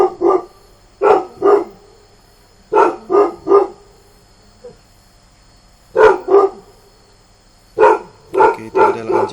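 A village dog barks loudly and nearby in short bursts of two or three, pausing between each group across the stretch, with no talk.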